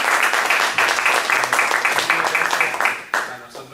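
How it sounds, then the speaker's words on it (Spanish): Audience applause following a university social-science research talk, a few seconds of steady clapping that fades at the close, with some voices faintly audible beneath it. "Bueno, un aplauso."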